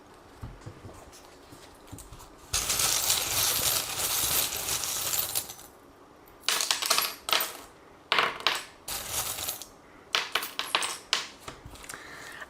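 Small charms cast onto a surface for a card reading clatter and rattle: one long jingling spill, then several shorter bursts of clinking, close and fairly loud with no talk.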